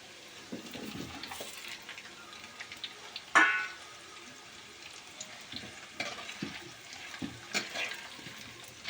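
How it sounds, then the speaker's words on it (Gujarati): Potatoes and onions fry in hot oil for a Gujarati chicken-and-potato curry, a steady soft sizzle with occasional stirring scrapes and one sharper clink partway through, no talking. "આપણે બટાટાને તેલમાં જ સડવા દેવાના છે."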